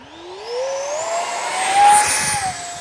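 A BAE Hawk 50mm EDF RC jet runs at full throttle. Its loud, close ducted-fan whine climbs steadily in pitch, then holds a high, sustained scream with a slight swell as it passes.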